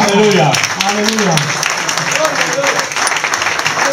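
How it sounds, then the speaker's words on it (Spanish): A church congregation at a Spanish-language service in Italy breaks into strong, sustained applause while a preacher's voice carries on loudly over the clapping. "Fuerte el aplauso al Señor."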